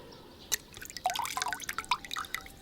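Water carried from a village pond is poured, giving a quick patter of close, bright drips and small splashes after a single early plop, with no voices.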